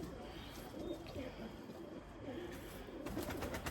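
Limoni breeding pigeons coo softly in a garden loft, low burbling calls blending into a busy, faint background.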